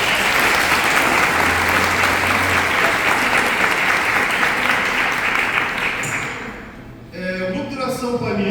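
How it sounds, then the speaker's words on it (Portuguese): A church prayer-meeting congregation gives a long burst of dense, loud applause that stays steady, then fades as a voice starts speaking. "Eu convido você a aplaudir esse irmão aí."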